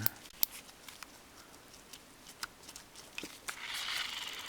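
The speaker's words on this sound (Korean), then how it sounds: "이건 테이프 소리입니다." Soft crinkling and sticky peeling of adhesive tape on a Daiwa SS SV 103 fishing reel, with sparse ticks and rustles, then a brief louder ripping hiss near the end.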